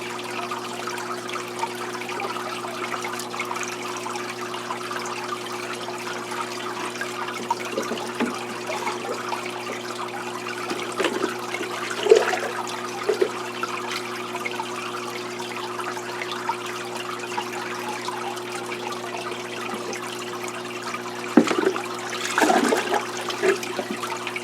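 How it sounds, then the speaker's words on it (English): Brackish water is poured back into an aquarium tank from a 5-gallon container, making a steady, fairly quiet watery rush with a few brief louder splashes and gurgles near the end. "You can put the water back in the tank really quickly"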